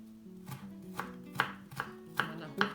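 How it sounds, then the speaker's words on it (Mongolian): A knife chops onion on a board for a Bulgarian Shopska salad, six or so crisp, evenly spaced strikes close up against a faint steady hum, with no talking. "сонгиноо томоор нь идэж чаддаг бол ингээд томоор нь ингээд цаграх хэлбэрээр нь хийчих болно"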